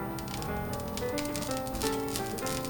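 Water sizzles and crackles on a very hot cast iron skillet, a dense continuous hiss with rapid popping, close and fairly loud.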